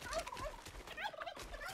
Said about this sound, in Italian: Un tacchino?